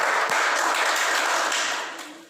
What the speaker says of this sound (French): Applaudissez-moi, applaudissez.